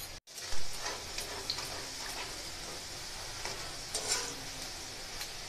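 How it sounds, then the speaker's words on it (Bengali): Gur kathi dough sticks deep-fry in oil over a medium flame while being stirred, giving a soft, even sizzle with faint intermittent clicks from the stirring. "তো দেখুন, এইভাবে নেড়ে ছেড়ে আমি এগুলোকে ভেজে নিচ্ছি।"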